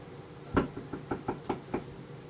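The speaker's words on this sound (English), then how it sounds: "So, chair makes weird noises." A chair creaks and knocks indoors in a series of about eight short, fairly evenly spaced thumps, moderately loud and close, with no talking.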